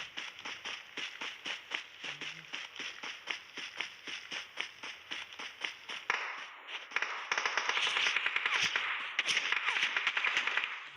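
Rapid gunfire in PUBG Mobile on the Livik map: a long run of sharp, quick shots in close succession, followed by denser, louder crackling bursts of fire.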